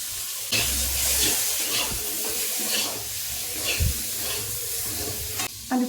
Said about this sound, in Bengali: আলুটা জাস্ট একটু ভাজা ভাজা হয়ে যাক